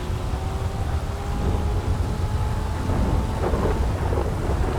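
Thunder in GTA 5 during a rainstorm, a low heavy rumble that swells and rolls over a steady hiss of falling rain.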